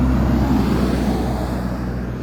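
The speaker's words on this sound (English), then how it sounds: "Big buses are going again." Large buses rumbling past on a road, a loud, steady low roar close by that eases off slightly as it passes, with no talking.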